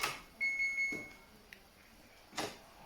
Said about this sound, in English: beeping at us because it stayed open for a while